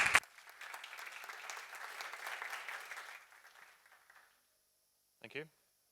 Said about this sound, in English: So please, round of applause for Macklin.